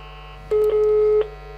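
An intercom phone system produces a single sustained dialing tone lasting under a second as it calls a resident, loud and close over a steady electrical hum.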